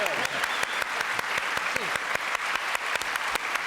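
Studio audience applause on a French television talk show, a steady bed of clapping with distinct sharp claps standing out and talk audible beneath it.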